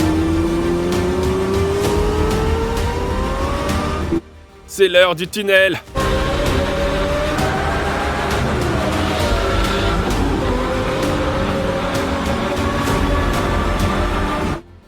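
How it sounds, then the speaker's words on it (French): A Lamborghini Murciélago engine revs hard and loud while driving through hilly country, rising and falling in pitch, with a brief cut partway through; someone talks over the engine noise. "Les collines sont animées par le son d'une Murciélago endiablée."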